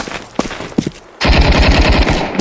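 Automatic gunfire in the video game CS2: a few faint distant shots, then a loud, sustained rapid burst of close fire.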